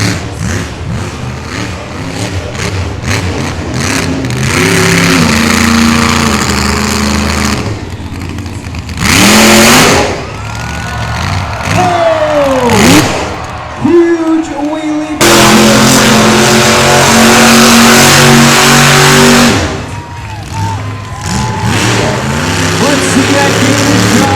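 A drag racing truck at the Outlaw Nationals in Miami, Oklahoma roars down the track in loud, sustained engine runs with rising and falling revs, while an announcer talks over the noise.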